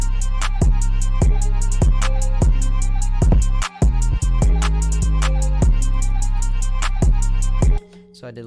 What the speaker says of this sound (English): This is the alley kick from the Rock 2020 drum kit, and so all that sounds like this.